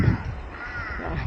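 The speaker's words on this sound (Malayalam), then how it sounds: "കാക്ക കരയുന്നു." A crow caws harshly on a mountain trek, a couple of rough calls close by against faint outdoor background noise.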